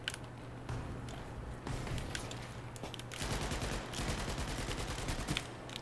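Video game gunfire in a Battlefield 5 metro tunnel battle, dense bursts of automatic shots and distant rattling fire that grow into a sustained loud barrage, with a steady low background hum.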